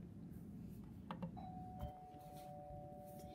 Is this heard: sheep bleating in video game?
no